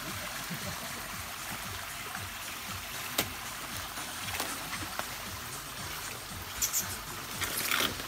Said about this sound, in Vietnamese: Nước đây nước từ suối.